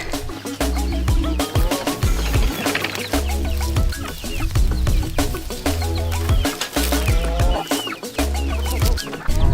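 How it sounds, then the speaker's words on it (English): Chickens on a homestead farm cluck steadily close by, with busy overlapping calls and rustling movement throughout. "Now I gotta put the chickens in it."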